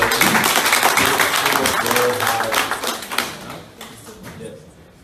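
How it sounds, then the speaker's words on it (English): An audience at a Nigerian community town hall meeting in Napoli applauds the community's president, with loud, dense clapping that starts strongly, thins out and fades away over a few seconds. "let's give her a round of applause"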